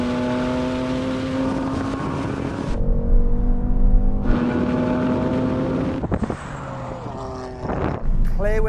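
BMW M3 Touring and AMG C63 S Estate launching hard from a standstill, engine roaring loudly with rising gear pulls and abrupt shifts, heard from inside the car while someone talks.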